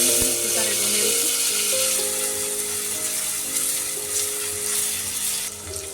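A small chopped tomato goes into hot oil with spices, without garlic or onion, for dal fry; a loud, steady sizzle hisses close by throughout, with a faint hum beneath.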